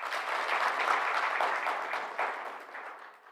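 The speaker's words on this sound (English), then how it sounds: "Another round of applause." Moderate audience applause at a stakeholders conference in Namibia, a steady wash of clapping that swells briefly and then tapers off.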